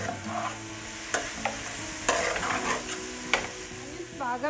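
Onions with a pinch of salt frying in a pan for Indian-style crab curry, a continuous sizzle broken by several scraping stirs of a spatula, close and fairly quiet, with no voices.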